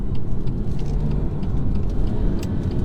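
A loud, close, steady engine drone from a Stage 1 tuned 2018 BMW M140i, heard from inside the car as it spins its wheels, with dense low rumble and no speech.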